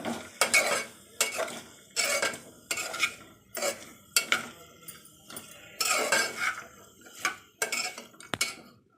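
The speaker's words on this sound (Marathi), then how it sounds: "मटार फ्लावर आणि गाजर तर आता हे जरा परतून घ्यायचे" Peas, cauliflower and carrots sauté in a pan with rhythmic spoon scrapes and clinks against the metal about once a second, over a faint sizzle, close and without talk.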